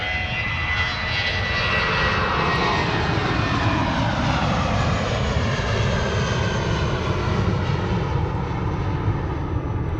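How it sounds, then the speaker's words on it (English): A British Airways Airbus A380-200 on its takeoff run, a loud, steady jet roar that sweeps gradually as the aircraft passes, holding full power throughout with no voices over it. "Just taking off there is an Airbus A380-200 belonging to British Airways"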